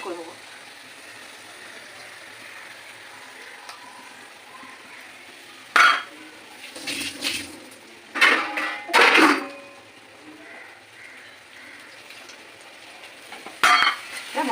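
Spatula scrapes and clanks against a pan while chicken curry masala with garlic paste is stir-fried, coming in a few short bursts of scraping over a steady low hiss.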